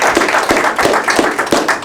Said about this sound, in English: I think big round of applause to Malia and is it Stefan?